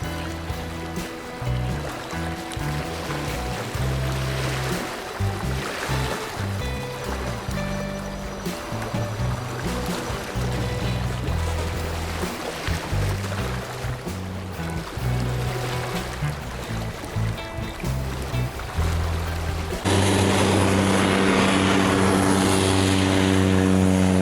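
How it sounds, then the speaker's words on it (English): A boat bouncing hard across ocean waves in the Bahamas, with a steady loud engine drone and repeated thumping slaps of the hull, growing harsher and louder near the end. "Bouncing pretty hard across those waves, huh?"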